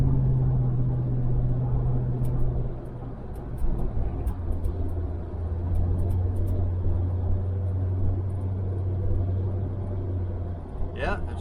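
A restored 1968 Chevelle Nomad on its first drive in 32 years, heard from inside as a steady low engine drone and road rumble that shifts pitch partway through, with people talking over it.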